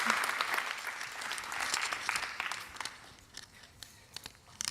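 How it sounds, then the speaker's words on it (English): An audience at a university startup showcase applauds, dense clapping that stays strong and then thins out into scattered individual claps, heard from within the room. "So big round of applause, please."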